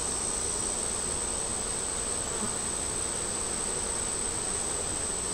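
Honey bees buzz steadily around an open hive being inspected on a hot day, a dense, continuous hum filling the scene with no talk over it.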